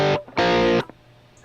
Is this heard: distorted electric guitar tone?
yes